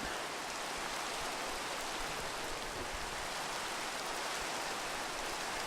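Steady rain falling in Minecraft, a constant even hiss of drops on blocks with no break or variation, alone and fairly loud throughout.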